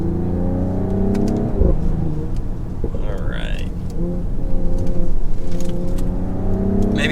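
A Mercedes-AMG GLE 53 SUV revs its engine in manual mode with traction control off, a loud close drone rising and falling with crackling exhaust pops, and people talking over it.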